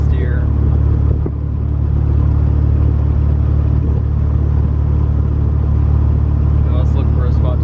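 A 1988 VW Cabriolet with a swapped-in racing engine drives along, its steady low rumble loud and close throughout, with someone talking over the engine noise.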